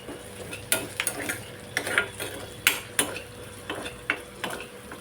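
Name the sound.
curry leaves and onion sautéing in a pan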